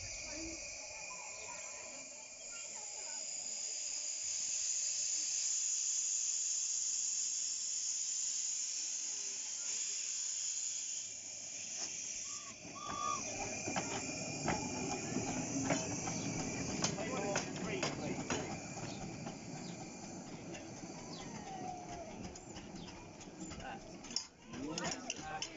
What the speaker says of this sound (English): Here it comes, reversing back down the line to the front of the observation carriage